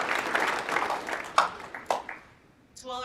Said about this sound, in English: So a quick round of applause to thank all of our sponsors